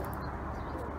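A pigeon gives a soft, brief coo at close range over faint background noise.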